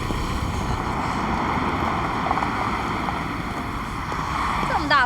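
Strong outdoor wind buffeting the microphone in a constant low roar, loud and unbroken, with faint background sounds near the end and no clear speech.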